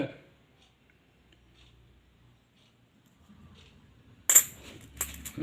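Uncleaned 1 and 2 rupee commemorative coins from the Hyderabad mint clink and jingle sharply near the end, after a quiet stretch with faint low handling sounds.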